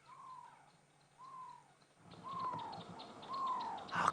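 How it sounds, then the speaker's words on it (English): Barred owl hoots come in a run of four slightly drawn-out notes, faint at first and then clearer over a rising wash of outdoor background noise, with no voices. "It is a barred owl."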